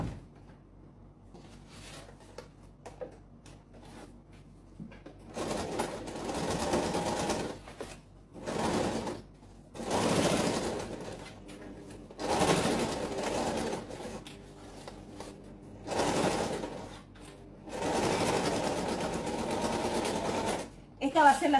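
A sewing machine stitches two pieces of fabric placed right sides together for a folding sewing case, running in several bursts of a few seconds each with pauses between them. A person talks over the gaps and during the stitching.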